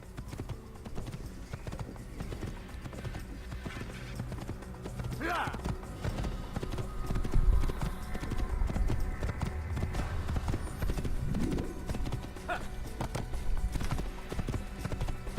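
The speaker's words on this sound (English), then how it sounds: "Giddy up, horsey." Horse hooves clip-clop steadily through a street in the Assassin's Creed video game, a continuous mid-level trotting rhythm over busy ambient crowd noise, with a brief whinny.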